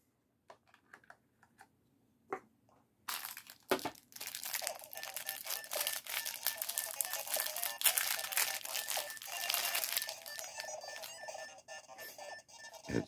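Paper is loaded into a Game Boy Printer: a few sparse clicks and taps, then a sustained close crinkling, rustling rattle of paper and plastic handling that continues with uneven bursts.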